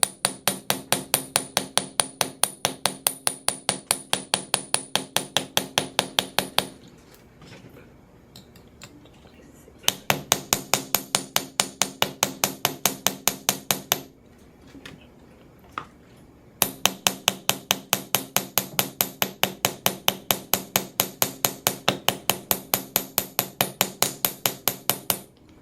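Silver link being hammered on a ring clamp, rapid regular metallic taps in three long bursts separated by short quiet pauses, close and crisp, with no voices.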